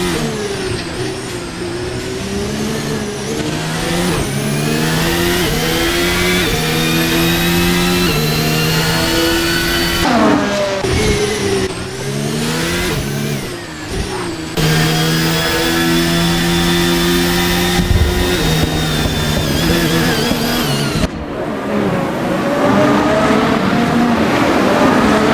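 Formula 1 cars of the 2024 Bahrain Grand Prix scream past one after another, loud high-pitched engine notes rising and falling through gear shifts, with no voice heard over the din.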